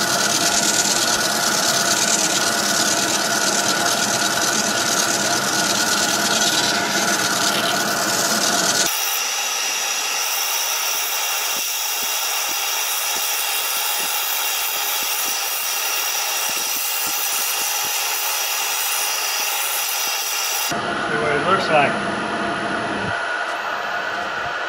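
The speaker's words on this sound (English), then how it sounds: "All I'm gonna try to do is get these tool marks out." A body file rasps steadily across a pecan wood vase to remove tool marks, a continuous loud scraping that shifts in tone partway through and continues to the end with a short scuff.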